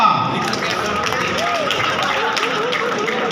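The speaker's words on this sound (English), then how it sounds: "Give her a big round of applause" Audience applause at an alumni degree ceremony in Pune, greeting graduate Akriti Taneja; dense, steady clapping from a crowd runs through the whole stretch, with faint voices and cheers mixed into the wash.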